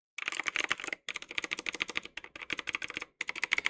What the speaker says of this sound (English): It's actually a very old keyboard.